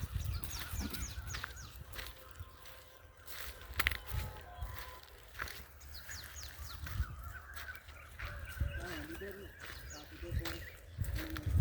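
Birds calling at the Nachikulam Udayamarthandapuram bird sanctuary, with eagles and kites overhead, scattered honking and cawing calls rising over a low outdoor rumble and occasional talk nearby.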